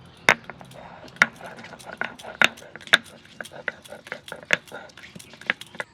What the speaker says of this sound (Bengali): এই, আদা আর রসুন বেটে নেবো